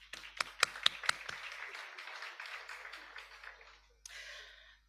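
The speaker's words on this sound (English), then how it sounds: "a round of applause to the SACU Secretariat" An audience at a regional customs programme awareness session gives a round of applause, a few sharp close claps leading into a dense, moderately loud burst of clapping that tapers off, then a brief final flutter.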